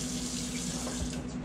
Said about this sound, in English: we're going to wash it to get the bacteria off of it